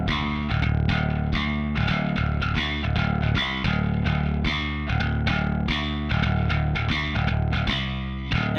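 Bass guitar played hard with a pick through two amps at once, one clean and one slightly crunchy, likely Ampeg; a driving, steady riff with gritty distorted overtones, loud and close, with no talking.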